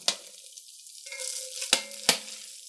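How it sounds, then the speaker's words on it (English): A slotted spoon scoops browned meat out of a hot pan for lasagna, with sizzling throughout and two sharp metallic clinks of the spoon against the pan near the end. "I'm just gonna scoop the meat out of here with a kind of slotted spoon."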